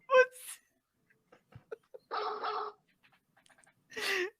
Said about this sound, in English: on this one we just do dogs barking